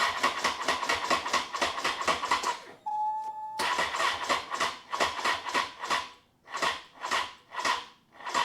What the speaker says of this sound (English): It was cranking over, but just not firing